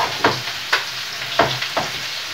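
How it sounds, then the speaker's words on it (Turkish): Green beans with egg and corn flour frying in a pan, a constant sizzle broken by four sharp scraping stirs spaced unevenly, close and moderately loud with no talking. "Yumurtalı, unlu fasulye kızartması derler buna."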